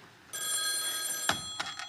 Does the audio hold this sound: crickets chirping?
no